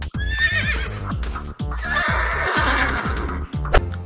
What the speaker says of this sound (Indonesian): Ada satu ekor kuda nih teman-teman.